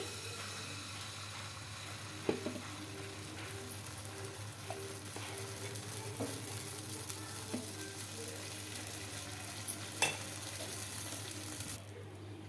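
Rava dosa batter made with curd sizzles in a hot kadai, a steady mid-level frying hiss running throughout with a few faint clinks and taps, no voices.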